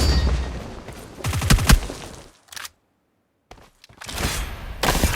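Burst of rapid gunfire from PUBG Mobile played on an iPad mini 5, loud close shots in quick clusters, then a brief silence and another volley of shooting.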